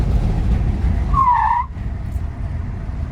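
A 1976 Plymouth Road Runner with a 360 V8 brakes hard with a short, high tire squeal lasting about half a second over steady engine and road rumble.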